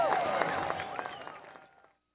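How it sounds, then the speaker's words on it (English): Crowd applause for the East Brunswick High School Marching Band at a football game, scattered clapping and cheering that tapers off and ends abruptly, with a tonal whistle-like sound running through it. "Let's have one more round of applause for your East Brunswick High School Marching Band"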